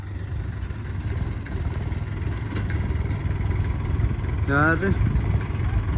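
A tractor engine runs steadily with its gear engaged, a loud continuous low rumble throughout, with a brief voice and a whistle-like tone late on.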